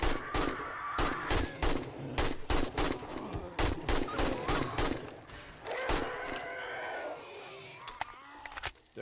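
Rapid bursts of 9mm pistol gunfire in the survival video game 7 Days to Die, loud sharp shots in quick succession for several seconds, then a busier stretch of game noise with a few scattered shots.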